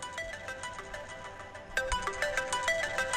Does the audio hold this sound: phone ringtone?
yes